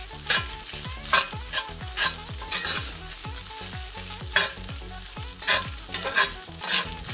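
Fried rice with scallions frying in a pan, a loud continuous sizzle broken by regular rhythmic scraping strokes of a spatula stirring and tossing, with no voices.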